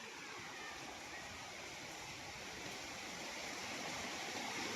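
A river flowing beside a farm lot in Quezon, a steady broadband rushing of water, fairly loud and close, with no other sounds standing out.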